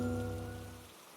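Steady rain falls on an evening, a soft continuous wash of drops that fades out toward the end, heard alone without voices.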